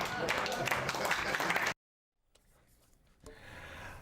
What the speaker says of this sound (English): Look at them all just clapping and smiling